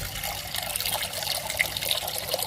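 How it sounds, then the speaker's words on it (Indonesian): Water pours into a cooking pot during preparation of sayur asem, a steady close splashing trickle that runs for the whole brief moment. "Kita masukkan airnya ya."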